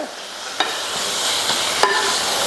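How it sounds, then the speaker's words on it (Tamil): A spiced masala mixture with salt is stirred in a pan, giving a low frying hiss punctuated by a few sharp clicks and scrapes of the spoon. "வந்து பார்த்திங்கன்னா இதை நல்லா மிக்ஸ் பண்ணிக்கோங்க"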